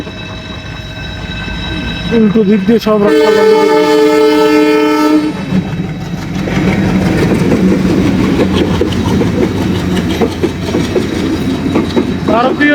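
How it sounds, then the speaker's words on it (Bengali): A freight train horn blares for a couple of seconds, then heavy rumbling and rhythmic clatter of passing cars continue, close and loud, with brief talk. "ট্রেন আসতেছে"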